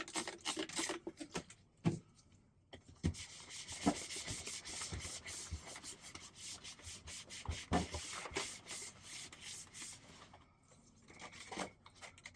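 The outer shell of a PlayStation 5 console being wiped down, a fairly quiet, continuous rubbing and scrubbing with irregular strokes and brief pauses.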